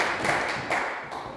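A church congregation claps hands: a few brief, soft bursts of clapping in quick succession, fairly distant and quiet.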